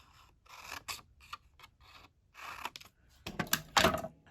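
Scissors snip paper for a journal page at close range, quiet irregular cuts and rustles with short pauses between, growing a little louder near the end.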